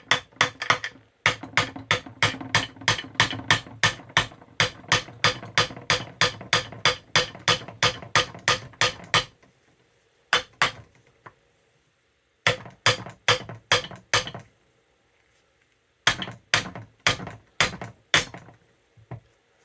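Rapid, even metallic tapping on a hydraulic steering helm pump part during a rebuild, a long run of close hits followed by several shorter bursts separated by pauses.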